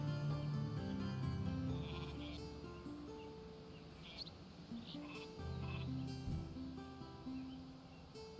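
Sheep bleat repeatedly from a farm in the Norse strategy game Northgard, the calls coming one after another over a soft steady ambient bed, with faint bird chirps, and no talk.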